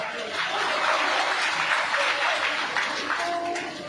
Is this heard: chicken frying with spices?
no